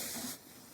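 Garlic and onion frying in a pan with a soft, steady sizzling hiss that cuts off partway, leaving a quieter background.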